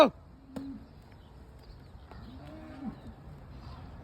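A few cattle moo at moderate distance in Saudi Arabia, drawn-out low calls spaced across a few seconds over quiet farmyard background.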